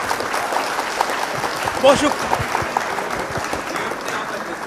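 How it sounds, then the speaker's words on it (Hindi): A group applauds steadily and fairly loudly for several seconds, with a brief louder burst in the middle and faint voices mixed in. "तालियां तालियां।"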